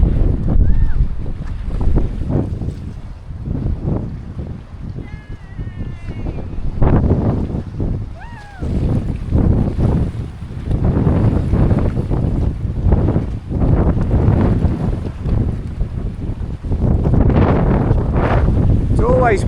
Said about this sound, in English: Always windy here. Third time I've been here and it's wind, wind, wind.